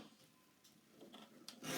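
A paper trimmer blade slides across cardstock being cut for a 12x12 scrapbook page layout, a soft rasping scrape that grows louder toward the end, heard alone at close range.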